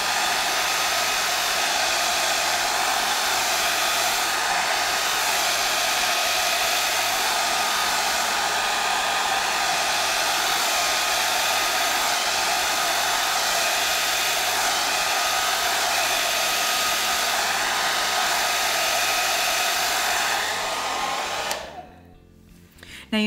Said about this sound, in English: I actually faced the hairdryer away from my piece